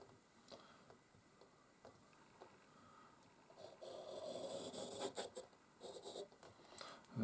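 A divider point scratches across paper while an arc is drawn for a segmented elbow pattern, faint close scraping strokes that grow stronger toward the end, with no talking.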